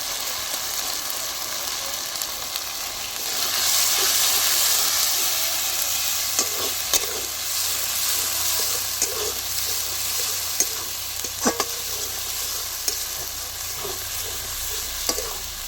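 Spice paste with chili paste for a chicken and jackfruit curry sizzles steadily in a pan, with scraping stirs and occasional sharp utensil clicks, alone with no talk.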